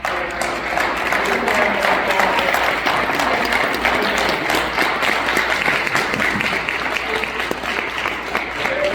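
A large audience applauds villagers standing up, dense sustained clapping that stays loud and even throughout, with some crowd murmur mixed in.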